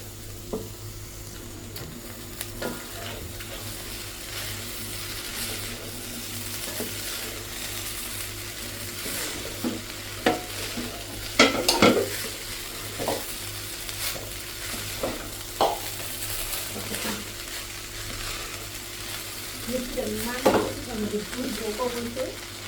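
Rice sizzles steadily in a hot pan while being stirred for fried rice, with continuous frying hiss and intermittent scraping and clattering of the spatula, a few louder knocks midway.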